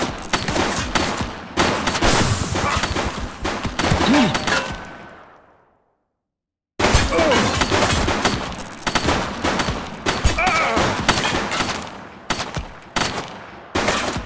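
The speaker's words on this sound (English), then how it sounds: "He's shooting!" Bursts of rapid automatic gunfire in the police action game The Precinct, loud and close, rattling in dense volleys that stop for about a second of silence, then resume with sharp repeated shots.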